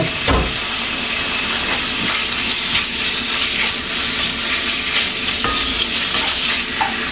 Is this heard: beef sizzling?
yes